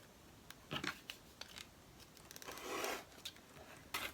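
Scissors cutting around a small square of fabric for a Christmas patchwork block, a few close, soft crunching snips and a longer rasping cut in the middle, quiet and without talking.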